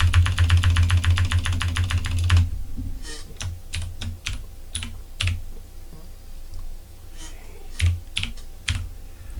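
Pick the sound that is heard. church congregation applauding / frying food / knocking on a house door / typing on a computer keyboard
typing on a computer keyboard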